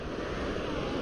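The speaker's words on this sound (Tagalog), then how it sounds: "Ayan, yung dagat." Sea waves washing onto the shore at Snapping Turtle Beach, a steady, unbroken roar of surf mixed with wind buffeting the microphone, close and constant with no voices.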